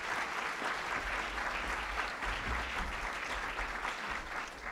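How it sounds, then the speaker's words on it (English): Sustained applause from an audience, dense and even clapping that holds steady for several seconds. "Let's hear a great round of applause for Sherry Gleed."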